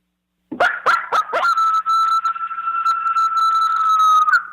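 A voice imitates a coyote, with a few short rising yips followed by a long, steady, sustained howl that holds one pitch and carries on alone, loud and close.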